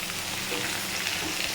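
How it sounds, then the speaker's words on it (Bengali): Dried fish sizzles and fries in a pan while being stirred, with a steady, close crackle throughout and no voices. "এবার এটা ভালো করে নাড়িয়ে চাড়িয়ে নেব, কষিয়ে নেব।"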